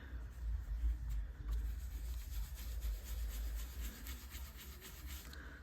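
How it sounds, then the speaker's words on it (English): Ink being rubbed by hand over the top of an embossed stamped card, a soft, close, continuous scratchy rubbing with faint strokes, quiet and with no talking. "if you just rub it over the top, you can see that it accentuates the embossing"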